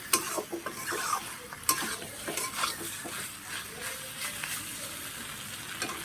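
Flat beans frying and being stirred in a pan for a prawn chachchari, with a soft steady sizzle broken by scraping spatula strokes and a few sharp clinks against the metal.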